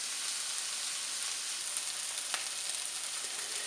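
Bacon and onions sizzle together in a greasy pan as they caramelize, a soft, steady crackling hiss with a few brief sharper pops.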